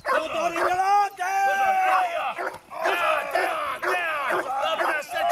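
Saint Bernard dog barking loudly and close in repeated bursts, with yelps and whimpers mixed in, amid excited voices.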